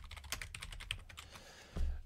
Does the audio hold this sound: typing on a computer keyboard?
yes